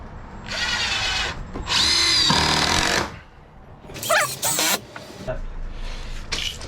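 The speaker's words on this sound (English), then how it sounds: "To secure the new floor joists next to the old ones, we're using a combination of 3-inch GRK structural screws and then some lag bolts" A power drill drives 3-inch GRK structural screws into new floor joists in an old house with a rotted floor, giving several loud whirring bursts of a few seconds each, rising in pitch, with short pauses between them.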